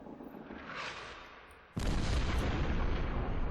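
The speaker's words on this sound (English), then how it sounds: "The thunder of a distant explosion rolls across the desert." A distant explosion in the video game Chasing Sunsets, set in a desert, comes as a low, rumbling boom that breaks in suddenly after a quieter stretch of wind-like noise and keeps rolling heavily to the end.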